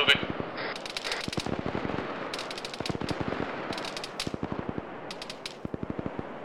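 Rapid bursts of automatic gunfire from a military shooter game played by a team, loud repeated volleys in clustered rhythms with short pauses, continuous across the clip.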